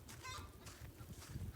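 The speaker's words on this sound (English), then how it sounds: "Boy, that chicken's been going and going this morning." Chicken clucking outdoors on a farm, a run of short repeated clucks over a steady low background, moderately faint and continuous.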